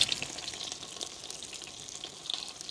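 Bay leaves and spices sizzle in ghee with a little oil, a soft continuous frying hiss with small crackles and pops, fairly faint and close, with no voices.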